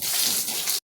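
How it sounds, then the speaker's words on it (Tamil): Water spraying steadily while a dog is bathed, a continuous close, fairly loud hiss of running water that cuts off abruptly near the end. "எப்பவுமே நம்ம தண்ணி அடிக்கும் போது நாய் காதில் தண்ணி போகாமல் பார்க்கணும்."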